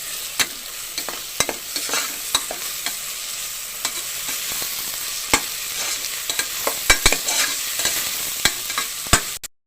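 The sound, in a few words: ginger garlic paste frying with onions in a pan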